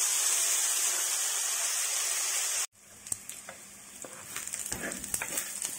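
Onion pieces fry in oil with a loud, even hiss that cuts off abruptly, followed by quieter crackling, stirring clicks and spoon scrapes, close and with no talking.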